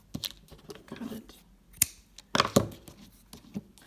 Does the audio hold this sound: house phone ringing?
no